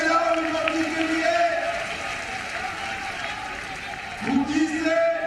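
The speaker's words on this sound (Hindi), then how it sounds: "ताली बजाओ विनोद जी के लिए" A crowd at an election rally in Chhattisgarh claps in a steady, continuous wash of applause. A voice speaks over it through a loudspeaker, and the cheering swells near the end.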